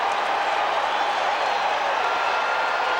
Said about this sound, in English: Boy, this crowd came here to make some noise tonight.